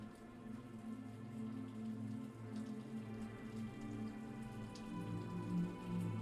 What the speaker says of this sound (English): this storm, full of rain, full of thunder